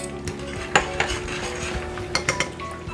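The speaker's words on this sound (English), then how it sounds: "I'm gonna add in 2 to 3 cloves of minced garlic." Metal utensil stirring minced garlic into melted butter in a pan, a cluster of sharp clinks and scrapes against the cookware over a steady low background, close and moderately loud.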